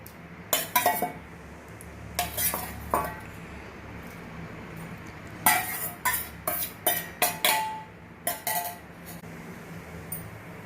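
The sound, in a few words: eggs being added to a pot of dried fish curry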